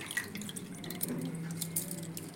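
Water draining off soaked rice and fenugreek seeds, a steady close trickle and splash of liquid pouring out, alone without talk.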